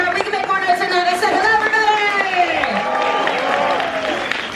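A large nighttime crowd at the Horror Makeup Show cheers and claps in a loud, continuous mass, with voices and an announcer's amplified speech over it.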